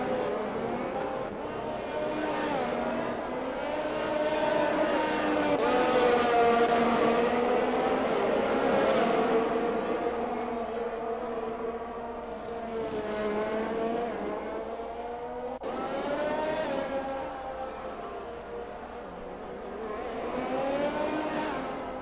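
Formula 1 race cars in a video game race at the French round, high-pitched engines screaming and shifting as they run side by side, pitch rising and dropping with gear changes, loud and continuous.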